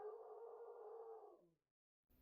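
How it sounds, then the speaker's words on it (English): A dog lets out a single loud, sustained howl for about a second and a half before it trails off into silence, followed by a brief burst of noise. "Oh my god, my dog."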